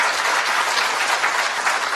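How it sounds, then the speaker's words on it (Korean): A brief burst of steady audience applause fills a forum hall at a Korean political debate event, dense and continuous clapping from a crowd with no voices on top. "박수 한번 크게 보내주시면 좋겠습니다"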